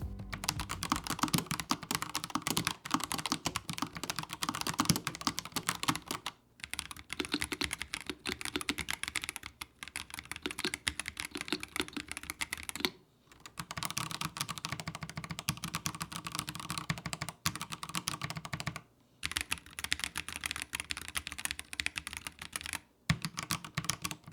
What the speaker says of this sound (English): it does seem to be louder overall compared to Razer's full height BlackWidow boards that use the same style of switch